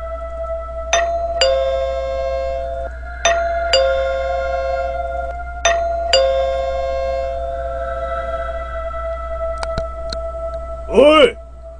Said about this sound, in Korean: 초인종을 누르는 소리가 들렸다.